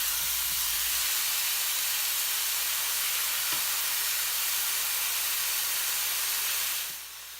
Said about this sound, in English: Cook the beef to the medium well.